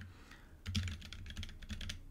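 Quick, irregular keystrokes on a computer keyboard, faint and close, sounding as short bursts of clicks with no talking.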